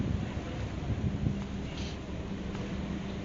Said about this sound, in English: it's a bit windy outside actually